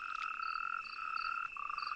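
Natterjack toads call outdoors in steady, overlapping high trilling croaks, one long sustained note joined by fainter intermittent ones, with no talk.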